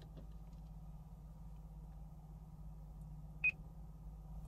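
One short, clear beep from the voice recognition system of a 2020 Mitsubishi Outlander PHEV sounds over a quiet, low cabin hum.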